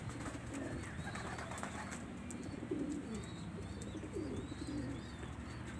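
Pigeons coo softly in a loft, with several repeated low, rolling coos rising and falling over a constant background hum.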